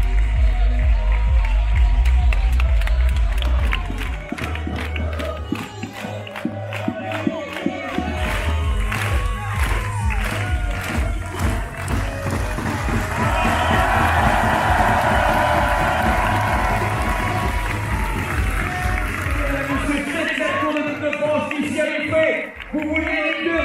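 Football stadium crowd at a French cup seventh-round match that ended 8-0 to Guingamp, clapping and cheering loudly and steadily for over twenty seconds as a dense, roaring wash of noise, with shouts rising out of it.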